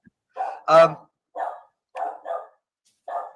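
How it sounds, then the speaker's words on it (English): A dog barks indoors, six or so separate mid-loud yaps spread irregularly across a few seconds with silence between them. "Oh, the dog's kicking off now."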